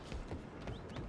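Horse hooves clip-clop in a video game, a few quick, muffled, fairly quiet beats in an even rhythm over a soft background.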